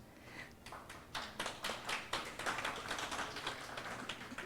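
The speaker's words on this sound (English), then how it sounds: "You might have to clap a little bit louder for Ms. Jade" Scattered, fairly quiet clapping from an audience at a 2022 university awards convocation in Manila, honoring an award recipient; the claps come as distinct taps that build into a steady patter without voices.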